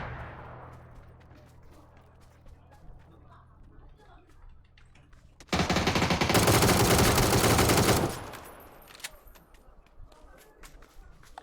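A video game gunfire exchange opens with quiet clicks and ambient sounds, then a loud sustained burst of automatic fire lasts about two and a half seconds before tapering off into softer scattered noises.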